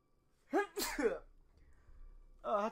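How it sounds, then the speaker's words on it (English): A person sneezes twice close to the mic, the sharp bursts coming in quick succession, followed by a breathy exhale and a brief vocal sound, with quiet Fortnite game sounds underneath. "Oh, I had to sneeze."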